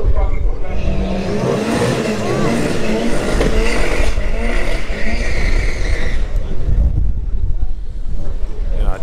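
Someone's turbocharged 20vt Mk1 Golf lines up at an MSA drag race, engine noise steady and fairly loud under gusty wind buffeting the microphone, with other motors revving nearby and people talking over it.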